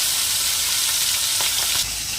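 Pomfret fish sizzles loudly in hot oil, a constant crackling hiss with a few brief stirring sounds partway through.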